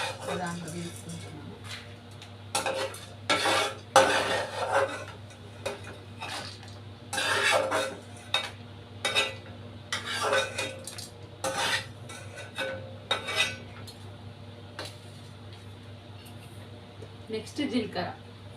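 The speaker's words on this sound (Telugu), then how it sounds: "శనగపప్పు కూడా వేగిపోయింది, దాంట్లో వేసుకుంటున్నాను." Roasted chana dal is tipped into a pan and stirred for a curry leaf podi, with repeated loud clinks and scrapes of a spoon against the metal in uneven bursts and quieter gaps.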